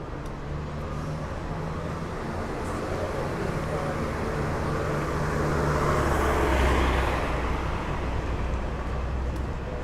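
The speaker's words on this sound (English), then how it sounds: "wait here a little bit until that car passes with their music blasting through the windows" On a Toronto street on a Thursday evening, a car with music blasting from its windows passes by, its rumble and thumping beat swelling louder near the middle and easing off amid general traffic noise.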